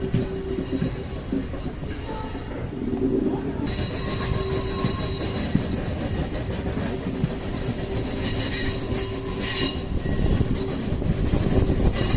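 An express passenger train rumbles past with a steady roar of wheels on rails and high metallic squealing, continuous and fairly loud throughout.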